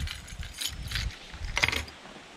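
A bunch of keys jangles and clinks in a few brief metallic bursts close to the microphone, alone and fairly quiet.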